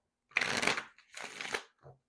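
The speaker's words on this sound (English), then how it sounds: "Let me get a good shuffle." Oracle cards are shuffled by hand, two quick riffling bursts close by followed by a short softer tap, with no talking.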